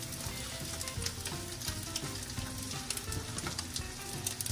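Sausage with chopped garlic and steak seasoning sizzling in a pan, a dense continuous frying crackle, steady and close with occasional pops, no voices.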